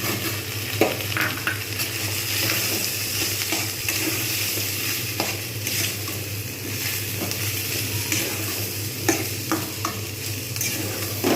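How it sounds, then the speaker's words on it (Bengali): Ground chilli and turmeric are stirred into a frying pan for potato curry with capsicum, a continuous close sizzle and fry broken by repeated scraping strokes and light pan knocks. "ভালো করে কিন্তু আমি নাড়বো"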